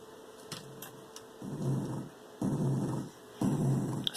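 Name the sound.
video game block hitting the ground, Game Maker Studio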